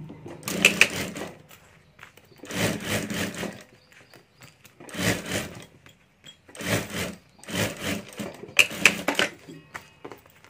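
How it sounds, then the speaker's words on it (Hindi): A sewing machine stitches the lining of a handmade ladies' wallet near a zip, running in five short bursts separated by pauses, close and moderately loud. "और अब यहाँ भी ऊपर एक सिलाई कर देनी है"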